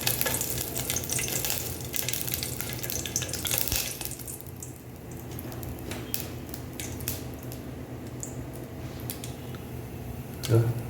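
Cinnamon, cloves and cardamom frying in plenty of hot oil for Arabian kabsa, giving a continuous close sizzle broken by occasional stirring clinks and scrapes.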